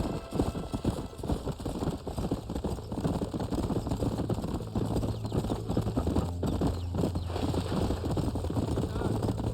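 Rapid rhythmic hoofbeats of horses galloping in the video game Red Dead Redemption, steady clip-clop over a low rumbling background, with a voice briefly speaking.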